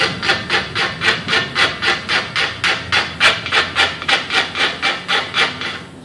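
A file or abrasive stroked back and forth along the cylinder bore edge of a 350 Chevy engine block, chamfering it to a 45-degree angle, gives about fifteen even, rhythmic rasping strokes, close and loud with no talking.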